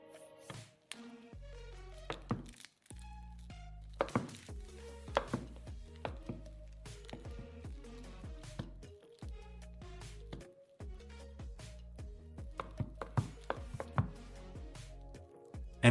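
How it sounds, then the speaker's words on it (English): A knife cuts a 5 kg ice cream block into large cubes, producing a steady run of close, dull chopping thunks and taps with short pauses between cuts. "And the rest is cut into large cubes."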